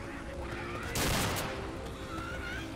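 Rapid gunfire crackles in the Left 4 Dead zombie game, a dense burst of shots peaking sharply in the middle over a steady background din, fairly quiet overall.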